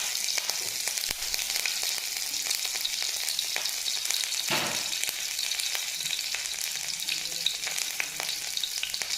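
Chopped green chili sizzles in oil reddened with spices for a cauliflower-and-potato samosa filling, a loud, steady crackling fry with a few stirring scrapes near the middle.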